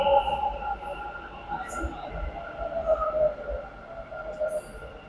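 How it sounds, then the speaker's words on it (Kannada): A metro train pulls into a busy station, a steady rumble and squealing hum at close range, with sharp high hiss bursts over the din. "ಮೆಟ್ರೋ ಗಾಡಿ"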